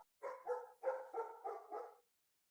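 A French bulldog lets out a quick series of about six sharp, evenly spaced barks, close and clear, followed by silence.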